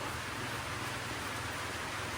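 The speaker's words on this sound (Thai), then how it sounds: "ฝนลงมาแล้วพี่น้องเอ้ย" Rain falls steadily outdoors, an even, dense hiss of drops that stays constant and moderately faint, with no voices over it.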